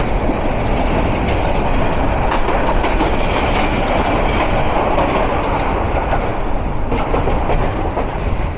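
A commuter train rumbles steadily along the rails between Kamalapur and Dhaka Airport, loud and close, with a continuous roar and faint rhythmic clatter from the wheels throughout.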